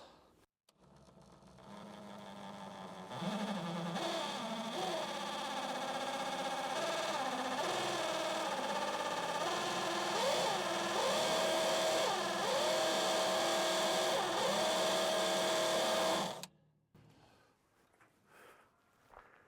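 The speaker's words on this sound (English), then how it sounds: "that's where we'll drill the first hole" A power drill whines loudly for about thirteen seconds, its pitch wavering as it bores through wood, then cuts off into quiet.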